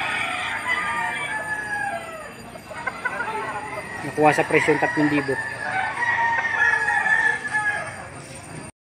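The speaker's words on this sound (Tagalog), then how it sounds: "Ngayon yung mga nakaparadang manok dito" Chickens and roosters at the Lipa livestock auction market in Batangas, with one rooster crowing loudly midway over ongoing clucking and market bustle while someone talks throughout.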